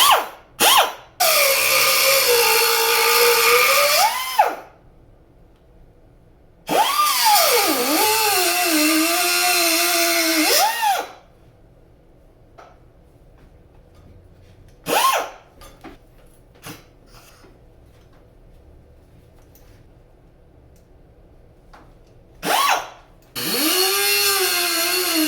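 A small angle grinder cutting welded brackets off a Yamaha XS650 motorcycle frame, a loud high whine in several bursts of a few seconds each, separated by quieter gaps with faint clinks.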